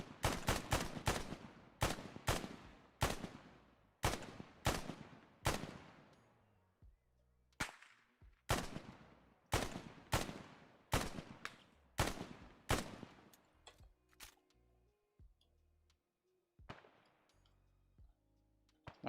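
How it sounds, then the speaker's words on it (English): Gunfire in an ArmA 3 battle: a long series of loud, sharp single shots and quick pairs with echoing tails, spaced irregularly with brief pauses and a distant shot near the end. "Let's start shooting at them."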